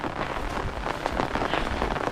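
Steady heavy rain during Typhoon Molave pours down at a rice harvest, a dense continuous patter on surfaces with no voices.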